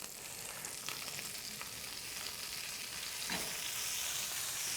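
Chicory wilts in a hot buttered pan, a soft, even sizzle that swells slightly louder toward the end, with a few faint utensil taps, fairly quiet and close, no voices.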